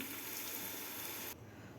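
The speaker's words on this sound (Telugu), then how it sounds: "కొంచెం వాటర్ వేద్దాం" Water gushes steadily into a pan of stuffed brinjal curry, a loud continuous rushing pour that drops away sharply near the end.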